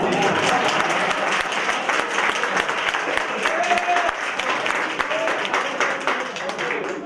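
An audience at an Urdu poetry recital in Sweden claps in sustained, dense applause for the whole stretch, loud and even, with a voice audible underneath.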